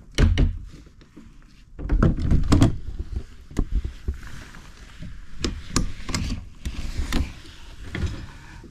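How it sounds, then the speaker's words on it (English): Doors are pushed shut, giving a series of sharp thunks and knocks with rattling and creaks in between, heard close and irregular over several seconds. "So we can shut these doors up again."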